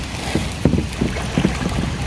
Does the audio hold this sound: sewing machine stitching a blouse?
no